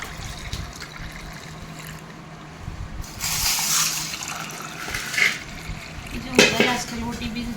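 Water is poured into a drinking glass during a pakodi (golgappa) eating challenge, giving short trickling bursts of filling between quieter stretches of room noise, with people talking nearby.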